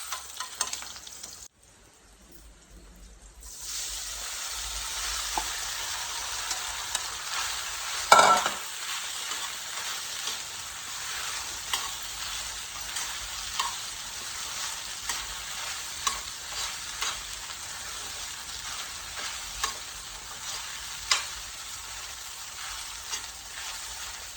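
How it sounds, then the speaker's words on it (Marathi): Green chillies roasting in a pan for sabudana khichdi, a continuous close sizzle with repeated scraping stirs and small clinks throughout, after a brief quiet gap near the start, with no voices. "मिरची घालायची आणि चांगलं मिक्स करून घ्यायचं मिरची आपल्याला या पद्धतीत भाजून घ्यायची"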